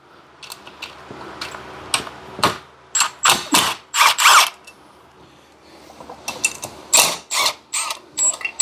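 Bolts on the clutch cover of a 2015 Honda Grom being loosened with a ratchet, giving repeated clicking and ratcheting bursts in close, uneven runs with short pauses between them.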